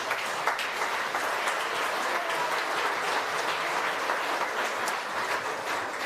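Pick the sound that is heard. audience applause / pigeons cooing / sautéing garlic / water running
audience applause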